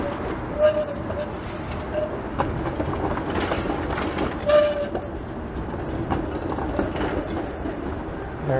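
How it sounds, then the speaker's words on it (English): A southbound 510 Spadina streetcar rolls past on a Toronto street, a rumbling, clanking passage with a few brief bell or horn tones over steady city background noise. "There's a southbound 510 Spadina streetcar."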